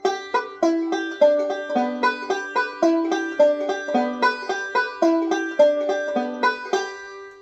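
A plucked banjo plays a steady run of even eighth notes stepping downward, bright and close, with ringing strings and no voices.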